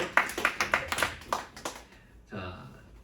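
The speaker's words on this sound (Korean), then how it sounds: "네, 박수." Youth congregation at a Korean church worship service clapping in a brisk run of even claps that fades out after about two seconds, followed by a brief voice.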